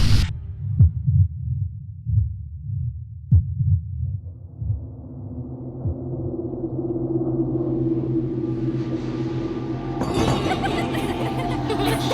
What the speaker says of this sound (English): a strange heartbeat emanates around him